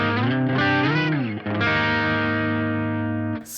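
An electric guitar runs through pedals into a carbon impulse response. Sustained, bending notes ring loud and harmonically rich, with a driven, effected tone, and are played alone before stopping.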